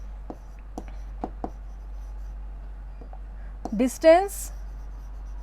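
Pen writing by hand on paper, with a few short scratchy strokes spaced apart and close to the microphone, followed by a brief spoken word.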